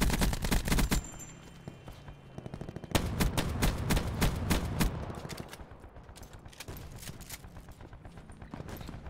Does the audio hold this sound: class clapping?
no